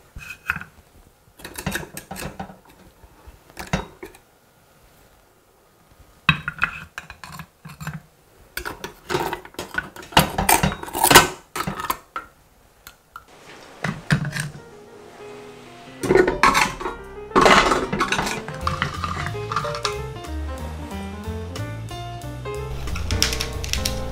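Cooked oysters being scooped out of a pot, with scattered clinks and scrapes of utensils and shells against cookware, close and uneven, some quiet pauses between bursts and a louder, busier clatter toward the end.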